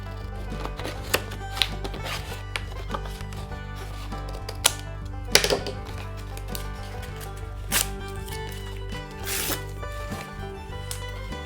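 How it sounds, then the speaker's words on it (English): Scissors cut through folded cardboard up close, giving a steady run of crisp snipping and crunching strokes at an irregular rhythm, with no talk over them. "I'm going to fold my cardboard. Let's now cut it out."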